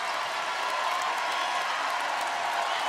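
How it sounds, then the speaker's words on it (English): A loud student section at a women's college basketball championship game, Utah against Gonzaga, roars with a steady, dense wash of crowd noise and cheering throughout, with no distinct voices standing out. "Student section is loud and into it."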